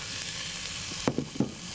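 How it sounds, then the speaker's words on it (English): Thawed mixed frozen vegetables saute in a hot pan with a steady close sizzle and a few sharper crackles and stirring clatters toward the end. "Saute that for a minute"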